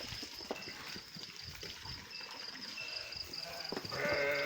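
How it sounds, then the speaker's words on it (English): Herd of sheep bleating close by on a farm, with several overlapping calls over a busy rustle of animals moving, waiting to be fed. "Honestly, I've never been so close to a herd of sheep before."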